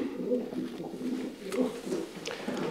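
Pigeons coo nearby in low, soft, repeated phrases, with a few faint rustles in the background.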